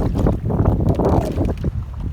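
Strong wind gusting around an Old Town Bigwater kayak out on the water, a loud, rough buffeting rumble that swells and dips continuously with no talking.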